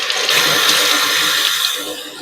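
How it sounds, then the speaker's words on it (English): Tap water runs steadily into a kitchen sink as broccoli is washed under it, a continuous, fairly loud hiss and splash with no talking. "we're going to wash our broccoli"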